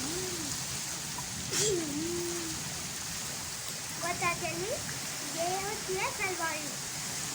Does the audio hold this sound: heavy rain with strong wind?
yes